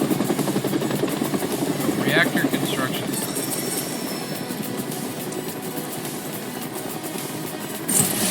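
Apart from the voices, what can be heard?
Shinra helicopter landing, from video game Final Fantasy VII Rebirth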